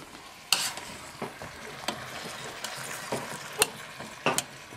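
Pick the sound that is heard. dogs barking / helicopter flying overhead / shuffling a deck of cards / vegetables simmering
vegetables simmering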